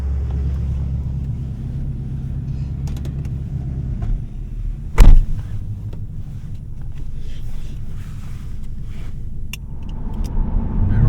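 A 1982 Corvette's Crossfire Injection engine rumbles steadily at low pitch as the car drives, with a brief sharp knock midway and road noise throughout.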